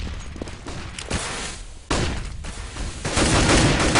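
Bursts of automatic gunfire in a competitive Counter-Strike-style team shooter match at The Blast 2013 tournament, dense crackling volleys with a louder burst near the end.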